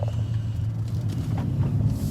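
A Mercedes-AMG GLE63s with a 5.5 V8 gives off a deep, throaty, steady rumble from close by, sustained without breaks and with no talk over it.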